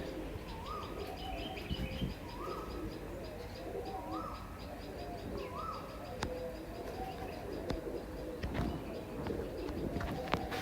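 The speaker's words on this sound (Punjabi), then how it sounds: "ਆ ਕਬੂਤਰ ਆਪਣੇ" Rooftop house pigeons coo in a repeating pattern of rolling calls every second or so, with scattered chirps, clicks and a steady outdoor background.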